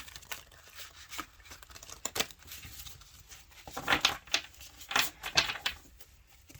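A deck of Light Seers tarot cards is shuffled by hand, producing bursts of papery riffling and flicking that come in irregular clusters, close and fairly quiet, growing busier toward the end.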